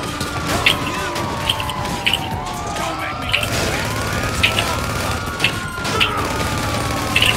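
Wailing police car sirens rise and fall in overlapping sweeps during a GTA V Online session, loud and steady, with game gunfire and clatter underneath and short bursts of noise throughout.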